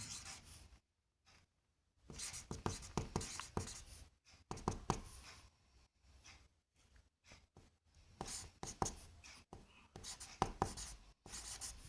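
Chalk or marker writing a maths question on a board during an LCM lesson for young pupils, a series of close scratchy strokes in bursts separated by short pauses, with no talk over it.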